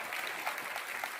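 An audience at a Bhim Army rally claps in a steady burst of applause, moderately distant and fairly quiet, lasting just over a second.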